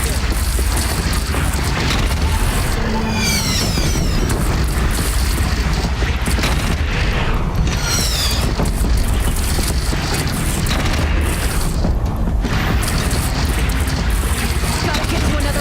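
Cannon fire and explosions during a battle defending Meridian in Horizon Zero Dawn, loud continuous booming and crashing with dense rumbling throughout, a few sharper bursts and whooshes cutting through.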